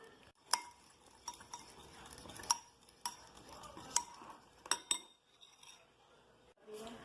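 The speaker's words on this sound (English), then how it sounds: "Then you guys are gonna pour it into the chocolate chips, and then you guys are gonna wanna mix." Melted chocolate mixture being stirred into chocolate chips for a homemade lava cake, with close, irregular clinks and scrapes of a utensil against a bowl and a few sharper taps, no talking.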